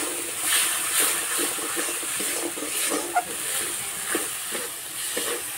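Turmeric, chili powder and a little water hit hot spices in a pan, giving a loud, steady hiss and sizzle with occasional spattering pops and stirring scrapes, and no talking.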